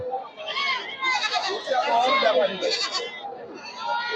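Black Bengal kid goats at a crowded goat market bleat repeatedly in overlapping calls, close and fairly loud, with people talking throughout.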